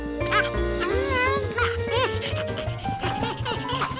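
A cartoon dog barks and yips in a playful animated scene, with bouncy music playing throughout and voices talking alongside.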